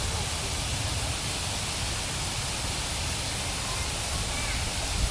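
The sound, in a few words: waterfall in a forest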